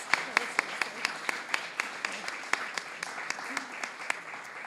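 Commencement audience applause at a graduation ceremony, sparse distinct claps ringing out at a moderate level, fairly even in rhythm, with a faint murmur beneath.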